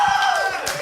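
Live comedy studio audience in Norwich letting out a brief burst of shouting and whooping, close and loud, with a whistle-like tone sliding down through it.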